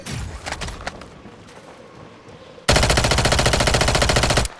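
Sustained machine gun fire in the video game Call of Duty Warzone 2, a loud continuous rapid burst near the end following quieter scattered shots and ambient game noise.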